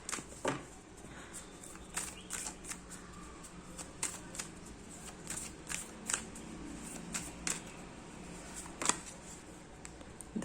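A deck of major-arcana tarot cards shuffled and drawn, the quiet riffles and crisp snaps repeating in short bursts against near silence.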